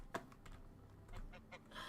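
Geese in a barn in the video game Medieval Dynasty give a few short, faint honking clucks scattered over a soft background murmur.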